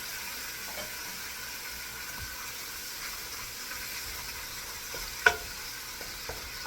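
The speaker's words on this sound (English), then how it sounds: "So I'm going to slightly brown my turkey." Ground turkey browns in a pan for vegetable soup, giving a soft, steady sizzle with occasional stirring scrapes and one sharp tap near the end.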